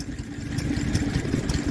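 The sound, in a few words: small quarter horsepower town gas engine running a nodding donkey pump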